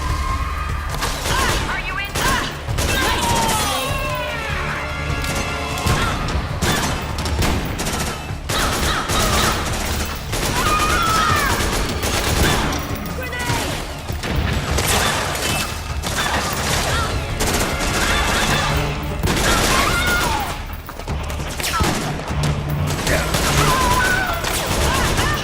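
Dense automatic AK rifle gunfire fills the whole scene in Metal Gear Solid 4, with sustained bursts and heavy booms layered under continuous loud game sound and a voice talking over it.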